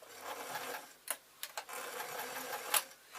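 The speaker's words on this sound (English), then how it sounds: "I'm going to run a layer of stitches over this" A sewing machine runs a line of stitches across a pillowcase with a steady close whir, broken by a few sharp clicks and clunks, and no voices.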